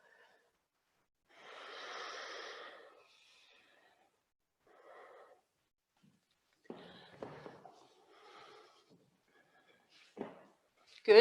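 A yoga practitioner breathes audibly while holding downward dog, a long soft exhale followed by quieter breaths and faint rustling movement, close and intimate.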